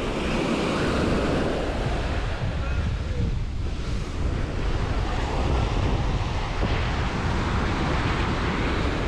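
Ocean waves break on a beach at Playa del Carmen, a loud, unbroken rush of surf with wind buffeting the microphone throughout.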